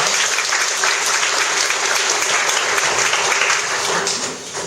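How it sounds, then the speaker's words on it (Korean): A church congregation at Sunday worship applauds the children seated at the front, a loud, dense, continuous wash of clapping that eases slightly at the end. "우리 앞에 앉아있는 우리 모든 아이들에게 우리 격려 박수하겠습니다."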